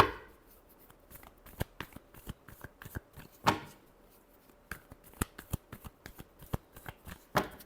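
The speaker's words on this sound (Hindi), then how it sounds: "Last shuffle." Tarot cards are shuffled by hand in a soft, continuous riffle of papery slaps and flicks with sharper snaps scattered throughout, close but quiet, with no talking.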